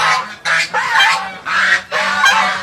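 White domestic geese honking close by, five loud nasal calls in quick succession with short gaps between them.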